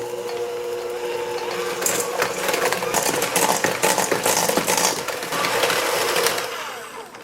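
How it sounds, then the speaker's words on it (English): A hand mixer creams two sticks of softened butter with sugar in a bowl, a close, steady motor whine with gritty scraping and beater clatter that builds in the middle and eases off at the end. "I'm going to start off by creaming 2 sticks of butter with 1 3/4 cups of sugar. I'm just using my hand mixer for this."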